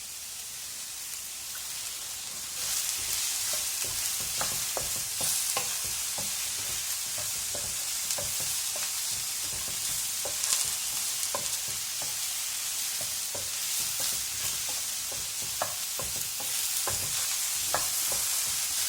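Coconut oil sizzles steadily in a pan while mushroom masala cooks, a dense, crackling hiss with scattered pops and occasional stirring sounds, close and continuous with no talk.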